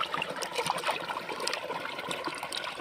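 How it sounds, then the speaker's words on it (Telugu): Raw prawns are washed by hand in a vessel of water for village-style prawn biryani, giving a steady, soft splashing and trickling that stays quiet and continuous with no voices. "రొయ్యలను అయితే నీట్గా కడిగేద్దాం"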